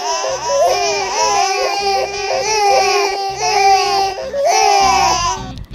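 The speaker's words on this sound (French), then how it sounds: "Baby Charlotte pleure comme tous les bébés au monde." A baby wails in loud, repeated rising and falling cries with brief gasping breaks, close and alone with no talk over it.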